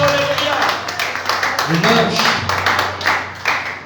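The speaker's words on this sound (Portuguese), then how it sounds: "Pode aplaudir o Rei." A church congregation at the IEPCD in Tupã applauds in a dense, steady patter of many hands, with sustained musical tones and a voice speaking over it.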